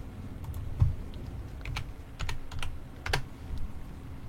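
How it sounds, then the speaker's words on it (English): Keys clatter on a computer keyboard in short irregular bursts, close and fairly crisp, with a few louder taps and brief pauses in between. "Problem is I have to type on my keyboard like this"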